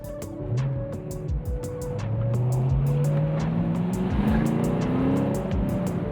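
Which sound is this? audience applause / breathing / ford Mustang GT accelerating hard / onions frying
ford Mustang GT accelerating hard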